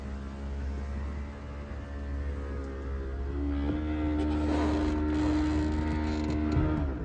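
Power convertible top on a 2001 Porsche Boxster 986 motoring open, a steady electric hum with harmonic whine under a low idling engine rumble, shifting pitch midway as the mechanism moves, with no talking.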